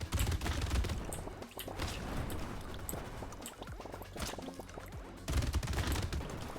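Spicy sauce explosions in the Brotato video game, a dense rapid stream of popping, crackling bursts layered with a low rumble, continuous and busy, with a louder surge near the end.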